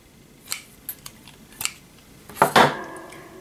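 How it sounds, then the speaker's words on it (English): Scissors snip through crochet yarn in a few sharp, close cuts, with a louder double snip near the end, heard alone without talking. "And cut your yarn"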